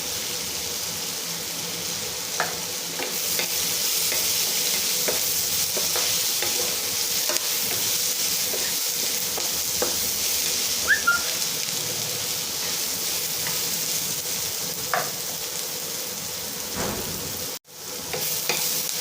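Curry leaves and onions fry in hot oil for egg kootu, a steady loud sizzle with occasional stirring scrapes and pops throughout.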